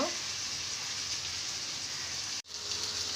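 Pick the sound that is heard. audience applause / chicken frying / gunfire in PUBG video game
chicken frying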